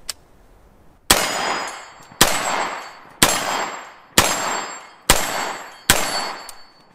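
Six loud unsuppressed rifle shots firing .223 ammunition, evenly spaced about a second apart, each a sharp close crack followed by a ringing metallic decay.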